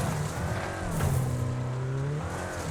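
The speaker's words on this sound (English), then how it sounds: "I can hear yet another Speedy behind me" Engine of a Speedy car close behind in a Wreckfest race, a steady high revving drone with pitch rising and falling as it holds on, loud and continuous with no talk.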